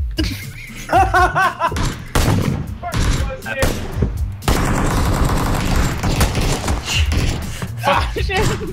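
Bursts of gunfire in the video game PUBG, rapid shots and thumps coming in clusters, heard together with players talking and laughing.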